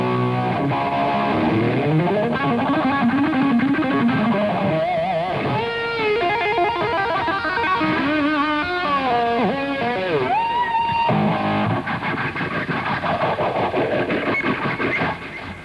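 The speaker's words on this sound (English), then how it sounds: "Take the little phase shifter and turn the knob all the way down so the speed goes as slow as it'll go" An electric guitar played through a phase shifter set to its slowest sweep, Van Halen style, gives sustained distorted notes and bends with a slow swirling whoosh over about fifteen seconds, with no talking.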